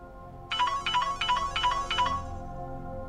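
A mobile phone ringing with an incoming call, a bright electronic melody repeating five quick bursts for about two seconds, then stopping, heard clearly indoors with no talk.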